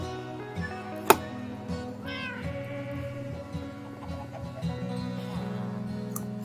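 Cats meowing in Minecraft, several distinct meows scattered across the clip, one sharp and loud near the start, others fainter, over a soft steady in-game music drone, no talk.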